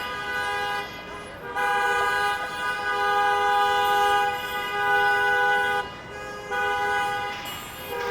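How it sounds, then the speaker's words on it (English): Several car horns honk repeatedly at a busy downtown intersection of University Avenue and College Street in Toronto, sustained blaring tones in bursts with brief gaps, loud and fairly close over steady traffic noise. "it looks like someone's attempting a forbidden left turn there, hence all the honking"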